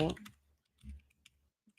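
Sparse keystrokes on a computer keyboard come as a few quiet clicks and taps, close and separated by gaps, with a voice talking briefly at the start.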